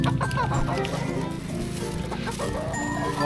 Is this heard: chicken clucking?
yes